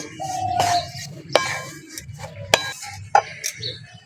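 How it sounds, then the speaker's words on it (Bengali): A spatula stirs semolina and powdered milk in a pan, giving several sharp metallic clinks and scrapes against the pan at irregular intervals over a soft low background. "নেড়ে চেড়ে নেব"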